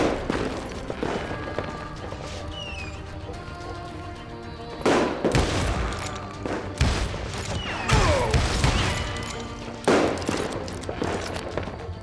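Rapid gunfire and heavy shots from Call of Juarez: Gunslinger crackle in repeated volleys over a busy battle, several loud close bursts standing out amid a continuous din of shooting.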